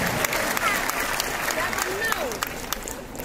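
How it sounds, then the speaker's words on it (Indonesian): An audience at a talk applauds grandparents in the crowd, steady clapping with crowd murmur and voices mixed in. "Tepuk tangan untuk para kakek-kakek dan nenek-nenek."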